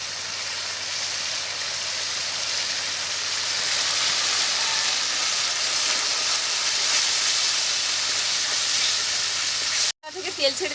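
Mustard paste sizzles and hisses steadily in hot oil in a pan, a dense constant frying crackle that runs close and loud before cutting off abruptly near the end, followed by a brief clatter.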